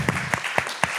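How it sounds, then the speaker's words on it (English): Clapping for a play's translator at a theatre aftertalk, a few distinct, evenly spaced claps, fairly close and sparse rather than a full ovation. "we have to have a clap also for Maria Hadjimanuil"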